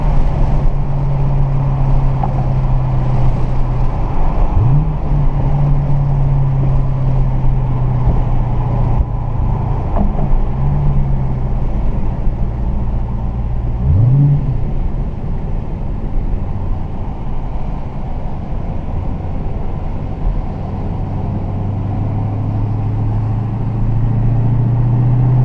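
Steady, loud engine drone from a Dodge Challenger Hellcat with a manual gearbox, heard from inside the cabin as it accelerates under light throttle, with a few brief pitch sweeps as the revs rise and shifts come through.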